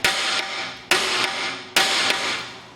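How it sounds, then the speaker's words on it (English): Three sharp metallic hammer blows on a screw in a car's rear brake drum, evenly spaced about a second apart, each ringing briefly before the next, close and loud with no talk. "you get a hammer and hit the screw"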